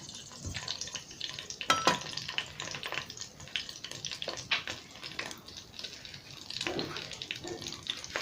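Bay leaf, dried chilli, cinnamon and whole cumin frying in oil for a Bengali soybean curry, stirred in the pan; steady soft sizzle with scraping stir strokes and a few louder clatters, no talk.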